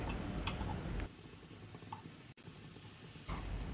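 Bananas are turned in a pan of melted jaggery, giving soft scraping and light clinks with a faint sizzle. The sound quietens briefly in the middle, then resumes, with no talking.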